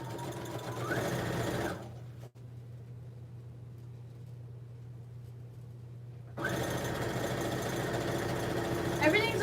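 Sewing machine stitching fabric panels for a tote, a loud close motor whirr with rapid needle chatter in bursts at the start and end, quieter hum between, and speech heard over it.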